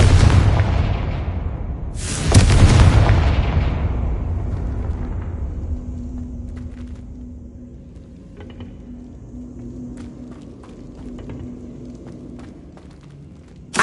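A Confringo blasting spell explodes in Hogwarts Legacy, a loud broadband boom with a long rumbling decay, followed by faint scattered clicks and steps as the scene settles.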